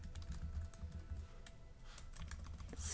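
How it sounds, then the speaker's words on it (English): Rapid keystrokes clatter on a computer keyboard in short irregular bursts, close and fairly quiet, with no voices. "Let's go ahead and just type something in here."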